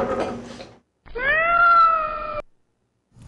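A kitten gives a single drawn-out, close, clear meow after some soft rustling and clatter, then silence follows.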